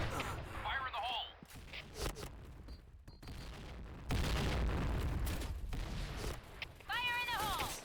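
A grenade goes off in the shooter game Point Blank with a heavy boom and rumbling blast, amid scattered gunfire and short in-game voice callouts.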